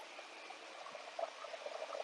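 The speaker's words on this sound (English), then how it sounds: "You got a cooler running." A TIG welder's water cooler runs in a faint, steady hum with light bubbling and small liquid pops scattered across it, nearby and alone.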